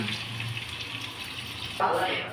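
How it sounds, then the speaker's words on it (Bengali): Water pours into a pot of malai chicken in a home kitchen, a soft, steady trickle that swells into a brief, louder splash near the end. "জল দিয়ে দিলাম"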